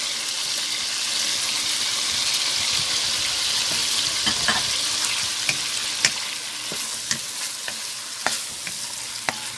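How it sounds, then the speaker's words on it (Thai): Shrimp stir-fried with pork and cabbage in a wok gives a steady, close sizzle throughout, with scattered sharp clicks and scrapes of a spatula stirring. "จากนั้นก็ใส่กุ้งค่ะใส่กุ้งไปเลย"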